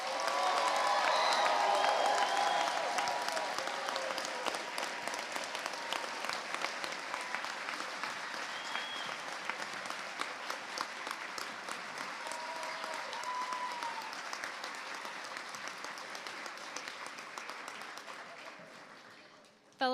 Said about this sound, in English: Please help me give a round of applause for the graduates of the School of Engineering.